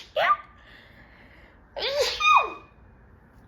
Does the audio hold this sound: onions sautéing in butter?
no